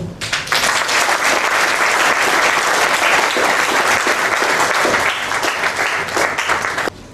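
An audience at a Bible dedication ceremony in Duekoué applauds Monsieur Tchekoum Isidore, with loud, sustained clapping from many hands lasting several seconds before cutting off abruptly.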